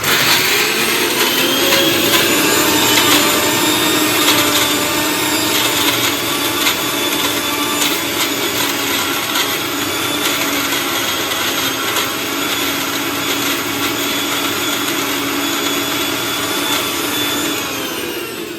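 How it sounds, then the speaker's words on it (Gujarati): An electric mixer grinder whirs loudly and steadily for about eighteen seconds as it grinds the ingredients for kankoda (spiny gourd) chutney, with a high motor whine and no talking. "હવે આપણે બધી સામગ્રીને પીસી લેવાની છે, તો હવે આપણે પીસી લઈશું."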